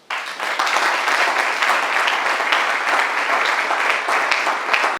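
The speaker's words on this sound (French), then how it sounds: "nous pouvons applaudir pour cela" Audience applause at a training graduation ceremony, a dense, even burst of many hands clapping that starts abruptly and holds steady for several seconds before cutting off.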